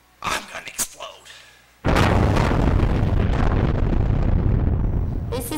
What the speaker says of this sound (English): I'm going to explode.